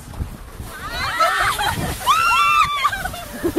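Water splashes and sloshes as a person drops in after a slide jump, mixed with excited voices and shouting nearby.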